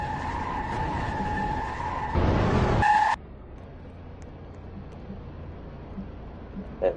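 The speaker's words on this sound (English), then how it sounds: "let's see this guy do his burnout" Tires squeal loudly as a stock car does a burnout in a NASCAR-style racing video game at Rockingham, a steady engine tone cutting into a harsh skid burst before dropping to quiet background.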